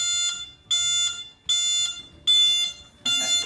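Reverse warning beeps from an e-wheel EW-72 heavy duty electric mobility scooter: five sharp, high electronic beeps in a steady rhythm about three quarters of a second apart, close and clear with a faint motor hum between.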